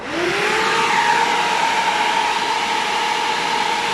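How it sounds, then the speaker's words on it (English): A 12 V DC air conditioner compressor in a compact Kalori Electrik unit kicks in with a loud, steady whirring hum and a rising tone that holds level, with no talking. "You can hear a boost of power as the compressor is coming in"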